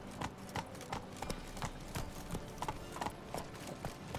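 Hooves of Roach, the horse in The Witcher 3, clip-clop at a steady walking rhythm, moderately close, with some faint game ambience underneath.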